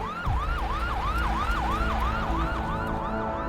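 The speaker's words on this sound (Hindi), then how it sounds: "एम्बुलेंस?" An ambulance siren wails in a steady, rapidly repeating rising-and-falling cycle, loud and close, running continuously with no talk over it.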